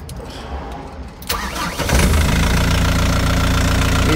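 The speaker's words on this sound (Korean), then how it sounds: "이 전형적인 얀마 엔진 소리" A Doosan D30S-5 three-ton forklift's Yanmar diesel cranks, fires and settles into a loud, steady, slightly rattly idle, starting from a quieter background and holding close and strong.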